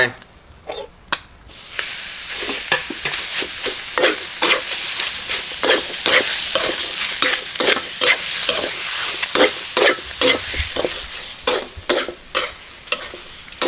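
Close, loud sizzling as pork is stir-fried in a wok, with repeated scraping and clattering of a spatula against the pan.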